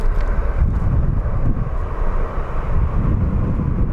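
An airplane takes off at Phoenix Sky Harbor International Airport, its engine roar a steady broad rumble, loud and fairly near, with wind buffeting the microphone.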